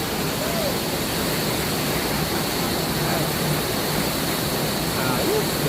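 Sprite Falls in Majayjay, Laguna pours with a dense, steady hiss and roar of falling water, filling the scene evenly at close range with no breaks.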